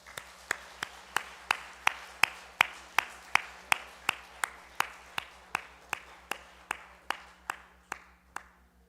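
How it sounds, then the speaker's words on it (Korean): A church congregation claps for the children during a Sunday service, and the claps come as a steady, evenly spaced series of sharp strikes that gradually soften near the close over a faint low hum. "어린아이들을 격려하는 마음으로 박수 한번 할까요?"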